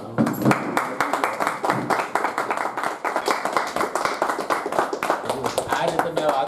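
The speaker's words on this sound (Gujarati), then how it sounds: "આપણે બધા તાળીઓ નાખી" A group claps together at a religious gathering honoring Hanuman and Mahadev, a steady rhythmic beat of many hands, close and loud, with voices chanting and talking over it.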